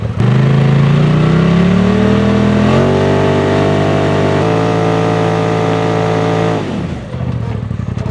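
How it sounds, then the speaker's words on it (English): A UTV on sticky tires does a burnout, its engine held at high, steady revs with the pitch climbing in steps. The drone is loud and close, then drops off abruptly near the end. "I feel like you did an extra hard burnout on those just because Uptane owns them."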